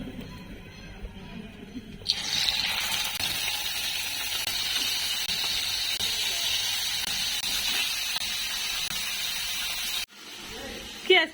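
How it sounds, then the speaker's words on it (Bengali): Silver fish, salted and sliced, sizzle steadily in a frying pan, a loud continuous hissing spatter that starts abruptly and holds for about eight seconds before cutting off, with faint background voices. "এখন মাছটা একটু ভাজা দিয়ে নেব।"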